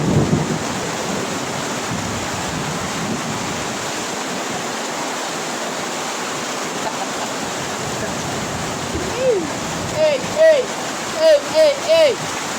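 Heavy downpour during flooding: a dense, steady roar of rain throughout, with no clear thunder, and voices calling out near the end.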